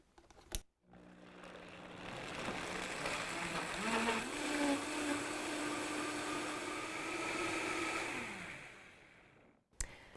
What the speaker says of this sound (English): you're just going to blend it up and let it run